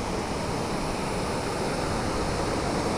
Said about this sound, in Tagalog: So medyo malakas yung ano ng tubig ngayon.